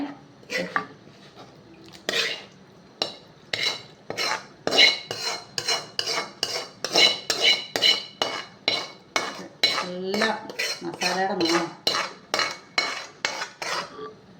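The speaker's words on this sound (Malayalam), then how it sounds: "ഇനി ഈ ചട്ടിയിൽ ഇതിലേക്ക് നമുക്ക് അരപ്പ് അങ്ങോട്ട് ഇട്ട് കൊടുക്കാവേ" Ground spice paste being stirred into beef curry in a clay pot, with a spoon scraping in a steady, repetitive rhythm. The strokes are loud and close, with no talk.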